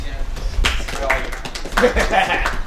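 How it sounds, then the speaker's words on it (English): Bursts of audience clapping at a comedy show at The Hot Squat in Waynesboro, Virginia. Scattered, moderately loud claps rise in two short waves under a voice talking from the stage. "Clap it up for consent."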